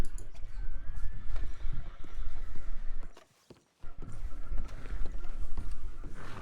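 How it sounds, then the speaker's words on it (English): Horses in a Wild West video game clip-clop steadily with occasional snorting, their hooves broken by a short quiet gap before resuming at moderate volume. "There's like loads of horses out the back as well."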